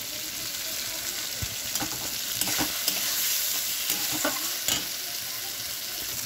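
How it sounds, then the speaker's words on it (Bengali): Crab curry seasoned with ground garam masala fries in oil as it is stirred, a dense continuous sizzle punctuated by spoon knocks and scrapes on the pan, close up and without speech. "গরম মশলা দিয়ে নাড়িয়ে চাড়িয়ে দিয়েছি"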